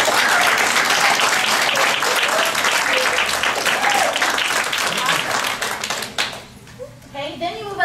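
A crowd at a business opportunity meeting gives a dense round of applause. The clapping runs strong and continuous for about six seconds, then drops away as a voice starts talking.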